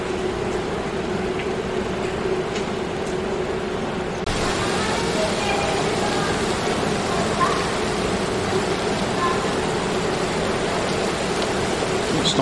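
Heavy rain pours steadily during a thunderstorm in Mineola, New York, a dense, constant roar of water with no breaks, getting slightly fuller partway through.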